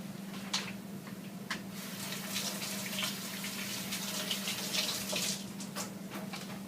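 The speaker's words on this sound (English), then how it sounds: "hold on, gotta rinse my hand out." Water running from a kitchen tap while a hand is rinsed under it, a steady broadband splash with small irregular drips and taps, close and continuous throughout.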